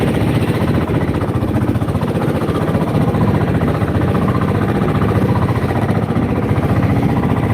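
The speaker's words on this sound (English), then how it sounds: "Might have a bit more engine noise up here." A fishing boat's engine runs steadily and loudly throughout, a dense low droning rumble with a faint knocking texture, heard from up near the bow of the boat.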